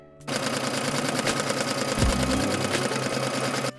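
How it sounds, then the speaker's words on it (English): Sewing machine running a straight gathering stitch along the top of a skirt made from a bedsheet, a loud, rapid steady whirring clatter that starts abruptly, holds for about three seconds, then stops. "Then just sew a straight stitch on top of the skirt."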